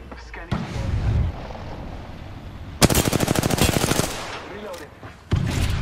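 Automatic gunfire in the Overwatch video game during Sombra gameplay: a rapid, loud burst of rattling shots lasting about a second, set among other game sounds and effects.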